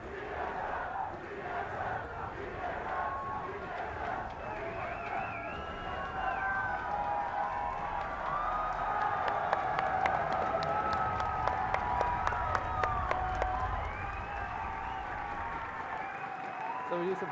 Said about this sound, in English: The crowd is going insane.